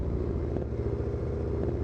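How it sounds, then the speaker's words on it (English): Race car engines rev and drone steadily in Assetto Corsa at a Copa Montana race at Cascavel, a loud continuous mechanical rumble with no pauses and no voices. "The engines are revving, and the lights are about to go green for 3 races of intense action."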